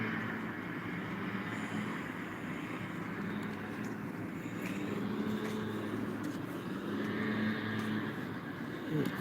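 Airplane coming in to land, heard from outside near a swimming pool as a steady low engine roar that holds at moderate volume throughout and stays fairly distant, with no talking.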